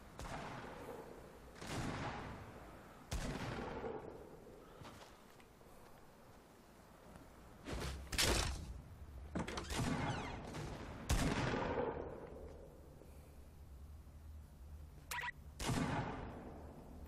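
Separate gunshots crack in a Fortnite match, coming from another player. Each shot is loud and sharp with a long ringing tail, spaced irregularly with a few quick doubles and quieter gaps between them.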